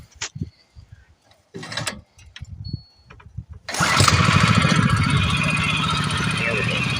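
Mud motor engine pull-started, with a few scraping, rattling cord pulls and handling noises before it catches on the first pull and settles into a loud, steady, buzzing idle close by.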